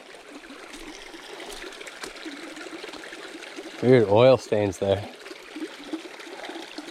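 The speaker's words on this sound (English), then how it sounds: "Beautiful little brook." Small brook running under a mud-covered steel bridge on an overgrown trail, a faint, steady trickle of flowing water heard throughout while someone speaks briefly partway through.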